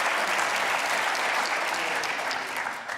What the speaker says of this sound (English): How about a big round of applause for all of our guests?